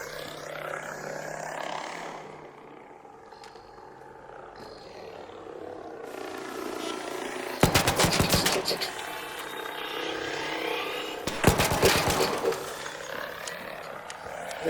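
Two bursts of rapid gunfire from a Rattler gun in the video game Arc Raiders, sharp rattling volleys of a second or so each, amid game ambience and someone talking.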